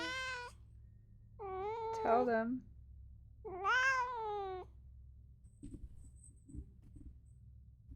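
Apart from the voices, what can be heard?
cat meowing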